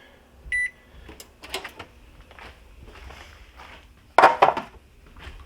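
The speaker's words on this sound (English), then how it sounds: "Throw these in the oven" Dishes being loaded into an oven set around 375 to 380 degrees, with a brief beep, a few light knocks and shuffles, then a loud clattering bang as the oven door closes.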